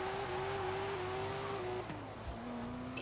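A TVR sports car driven in the racing game Forza Horizon 4, its engine holding a steady loud drone with a gear change partway through, then pulling again alone without speech.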